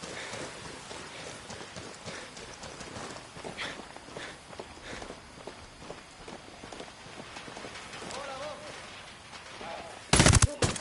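Automatic gunfire in the tactical shooter Ghost Recon Wildlands, rapid rattling shots layered over busy game ambience and movement, with a louder burst near the end.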